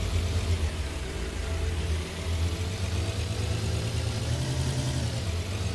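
A car engine in the zombie survival game HumanitZ runs at a steady, loud idle with a low rumble, continuous and close, with no voices over it.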